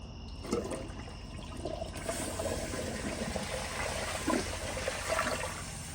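A 2004 Kohler Highline Ingenium toilet flushes a grocery bag with a steady rushing of water, swirling and gurgling throughout and no one talking.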